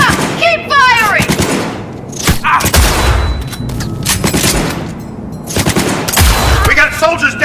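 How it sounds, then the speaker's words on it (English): Bursts of automatic gunfire and heavy shots ring out in the video game Cyberpunk 2077, loud and close, mixed with shouted voices and some whistling electronic effects. "Keep firing!"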